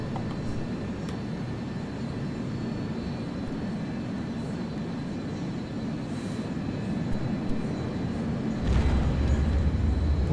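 Engine drone from a Boeing 737 in a flight simulator game, a steady roar running throughout. Near the end it deepens and grows louder with a low rumble as the plane comes in to land.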